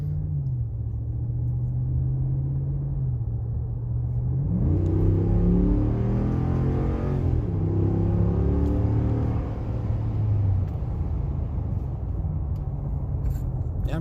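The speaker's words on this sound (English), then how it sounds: "here's an in-cab sound level of the factory exhaust" A 2020 Ram Warlock pickup engine with factory exhaust, heard from inside the cab, rumbles low and steady at idle, then revs up and settles back down, sounding muffled and enclosed.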